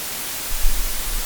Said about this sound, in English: That's the frequency/dynamic content of white noise.